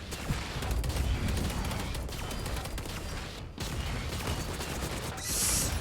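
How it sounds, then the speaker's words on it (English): An automated turret fires in an online video game, rapid bursts of gunfire with mechanical clatter running through most of the stretch, fairly faint in a noisy game mix. "Why is turret shooting you?"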